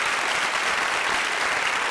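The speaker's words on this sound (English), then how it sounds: "Let's give her another big round of applause." A school-district audience claps in a dense, steady burst of applause that fills the room evenly from start to finish, with no speech over it.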